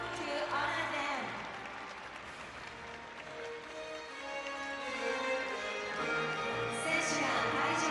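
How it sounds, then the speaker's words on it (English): An audience at the 2023 speed skating World Cup in Obihiro applauds the medalists with steady, sustained clapping across the whole stretch, rising again near the end, with faint announcer speech or tones mixed in. "Please give the medalists a round of applause to honor them."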